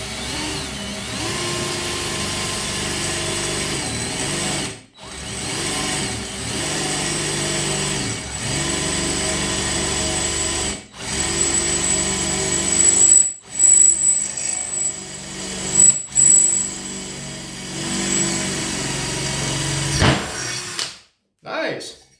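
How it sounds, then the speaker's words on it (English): A Parkside PSBSA 20-Li cordless hammer drill with an 8mm metal bit whines as it drills into metal, running in several long steady bursts separated by brief stops, with the pitch wavering under load toward the end. "very easy drilling with a 8mm drilling bit for metal"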